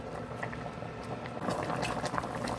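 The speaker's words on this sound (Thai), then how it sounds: "หมอเขาก็เดือดแล้วเนาะค่ะ" A pot of Thai fish-curry noodle broth with chicken feet boils on the stove, giving a soft, continuous bubbling and gurgling that thickens slightly midway, close and fairly quiet with no talking.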